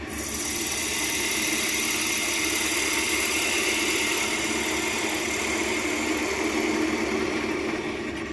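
A diamond parting tool cuts a tenon into spalted beech on a spinning lathe, the motor's steady hum and whine joined by a continuous scraping hiss of the cut, close and unbroken.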